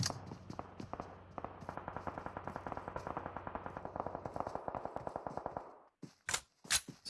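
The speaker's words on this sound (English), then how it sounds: "we have a few shots coming in from Active Gaming" Rapid automatic gunfire rattles in a steady stream during a match in the game Clatter of Clans, then cuts off and gives way to a few sharp, louder single shots.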